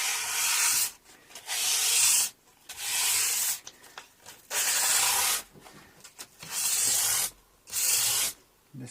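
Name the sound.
dry sanding with sandpaper on a Les Paul copy guitar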